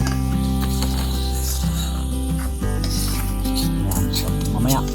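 A pot of coconut milk sauce bubbles and sizzles steadily over a constant low hum, with faint clinks of a utensil now and then.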